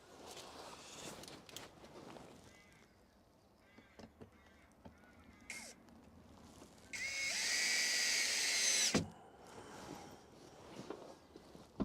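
Power drill undoing the screws on a drawer, one loud continuous whir of about two seconds after scattered handling knocks, close by, with quieter clatter following.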